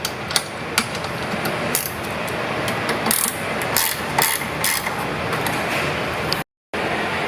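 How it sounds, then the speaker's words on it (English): A 9/16 combination wrench loosens 3/8 hex bolts on the take-up blocks of an RLC2000 conveyor, giving a close run of repeated metallic clicks and rattles with a brief silent gap near the end. "Loosen all 4 of the 3/8 hex bolts in the take-up blocks on both the motor and non-motor side with a 9/16 combination"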